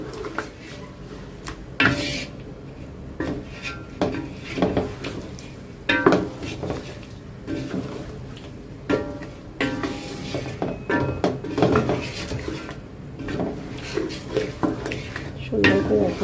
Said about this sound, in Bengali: মশলাটা কষানো হয়ে গেছে এখন চিকেনটা দিয়ে দিলাম